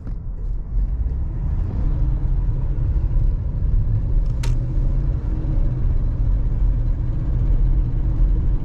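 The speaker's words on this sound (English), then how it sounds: "Does sound like it has a small exhaust leak" A 1985 Buick Riviera with a slight exhaust leak cruising on the road, a steady low engine rumble and drone heard from inside, with one brief sharp high transient midway.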